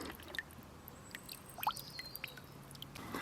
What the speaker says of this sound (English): just dripping out now